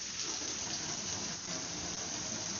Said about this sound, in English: So we're just doing a low pressure rinse.